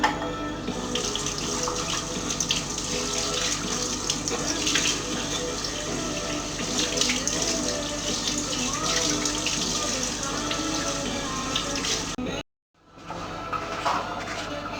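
Cold tap water runs steadily into a sink to rinse pot roast meat, a loud continuous gush close by that cuts off briefly near the end before resuming.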